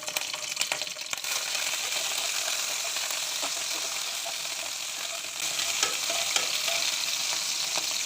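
Green chillies frying in a pan, giving a steady broadband sizzle with light stirring clicks throughout, fairly close and alone without talk.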